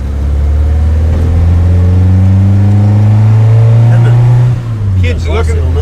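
A 1955 Morris Minor Series 2 ute drives along a street, its steady mid-pitched engine drone holding close and loud before easing off near the end, with voices talking over it.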